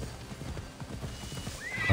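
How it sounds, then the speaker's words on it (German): Horse sounds in Assassin's Creed Odyssey: hooves clip-clopping steadily in quick rhythm, with a short neigh near the end, fairly close. "Oh, ein Pferd."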